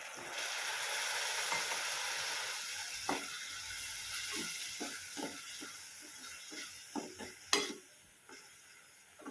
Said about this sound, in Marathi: पाणी टाकते थोडंसं.